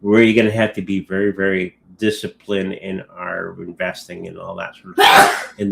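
A sharp sneeze bursts out near the end, briefly interrupting someone speaking steadily in the foreground.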